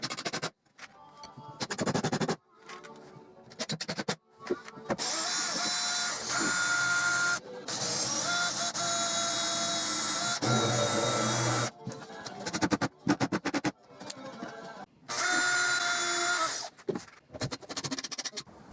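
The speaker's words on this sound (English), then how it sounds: "I'm going to reinforce this solid leg with some screws too" A drill drives screws into the solid leg of a vintage wooden display cabinet, whirring in several loud bursts with short pauses between them, close by.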